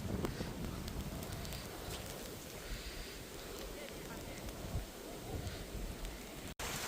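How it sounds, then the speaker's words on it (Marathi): Heavy monsoon rain pours steadily on a farm field, a dense close roar of drops hitting surfaces throughout, with a brief dropout near the end. "आता भला मोठा पाऊस आलेला आहे"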